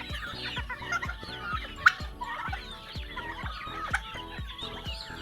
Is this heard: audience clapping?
no